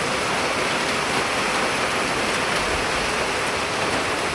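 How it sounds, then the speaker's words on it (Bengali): Steady, dense rain falling continuously, a constant broadband hiss with no pauses and no voices. "আবার এই যে বৃষ্টি হচ্ছে"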